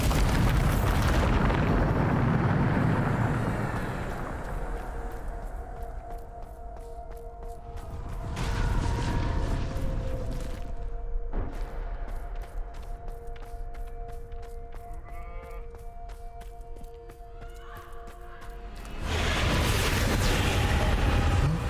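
Bombarda spell blasts in the Hogwarts Legacy video game land as loud, roaring explosions at the start, midway and at the end, with quieter game ambience and tones between them.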